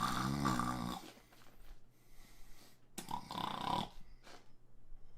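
A man imitates snoring with his voice, a couple of rough nasal rasping breaths separated by quiet pauses, close and fairly loud.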